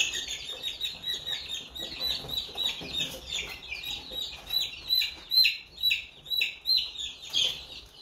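A flock of about 32 chickens being vaccinated against coryza cluck and chirp continuously, a busy layered mix of calls close by with no talk.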